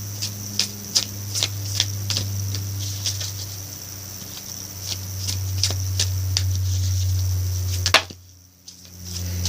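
Someone shuffles a Healing and Meditation Oracle card deck in a fast, steady run of crisp papery riffle clicks over a low background hum. The clicks stop abruptly near the end, leaving a short silence.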